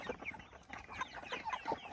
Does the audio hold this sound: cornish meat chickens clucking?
yes